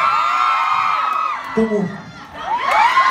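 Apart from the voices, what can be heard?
concert audience cheering and clapping for staff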